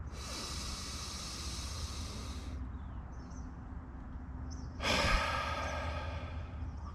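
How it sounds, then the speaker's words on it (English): Deep, forceful Wim Hof–style breaths under a steady background hiss of outdoor ambience, with a long rushing inhale or exhale surging in near the end; no talking. "One more good breath and we'll get into round 2."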